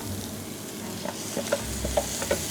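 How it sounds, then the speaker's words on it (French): A spoon stirs through thick crushed-tomato sauce in a saucepan with soft scraping and a few light knocks, under a quiet sizzle; no voices. "On va venir mélanger tout ça."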